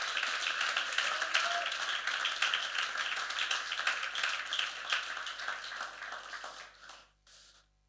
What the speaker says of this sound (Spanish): Dale ese aplauso al Señor en esta hora